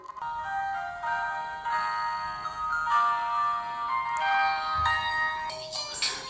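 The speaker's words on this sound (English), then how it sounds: "play some music" Music played through the built-in speakers of a Moran tablet made in Tanzania, a thin, tinny melody with chiming tones, steady and fairly quiet, no talk.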